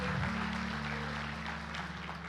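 A church congregation claps together in a steady burst of applause, sustained over a low droning organ or keyboard chord.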